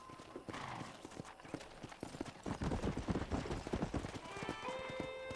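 Horse hooves clip-clop in a steady trotting rhythm in Red Dead Redemption, fairly close, with a horse whinnying briefly and some background game effects and tones.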